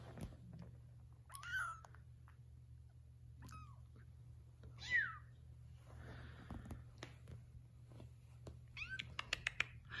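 A Bengal-type silver kitten mews a few times, short high cries scattered over a low steady hum, with small clicks and knocks near the end.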